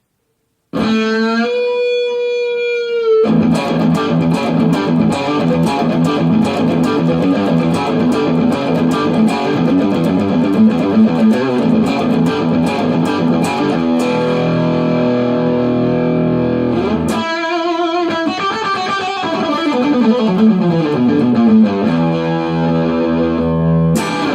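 A heavily distorted electric guitar through a distortion pedal at maximum plays loud, thick sustained notes and a soaring solo line with long held tones, continuous throughout without any talking.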